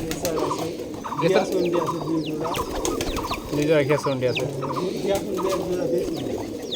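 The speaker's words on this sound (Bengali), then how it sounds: "রেসারও দেখতে পাচ্ছি কবুতর আছে আপনার" Racer and giribaz pigeons coo steadily and loudly in a backyard loft, overlapping throaty rolls with other bird calls mixed in, while someone talks over them.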